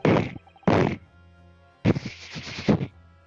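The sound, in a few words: firecracker set off in video game Great Ace Attorney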